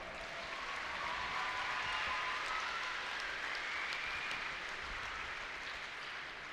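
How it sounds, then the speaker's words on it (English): An indoor crowd at the NFAA Indoor Nationals archery tournament gives a steady, fairly distant round of applause that holds evenly for several seconds. "big round of applause for them."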